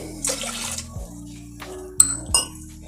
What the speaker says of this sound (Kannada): ಈಗ ಇದಕ್ಕೆ ಒಂದು ಕಪ್ಪಷ್ಟು ಬೆಳೆಗೆ ನಾನಿಲ್ಲಿ ಎರಡು ಕಪ್ನಷ್ಟು ನೀರು ಹಾಕಕತ್ತೀನಿ